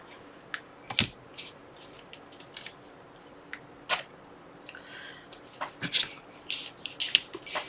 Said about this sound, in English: Then I want to rip off the edge.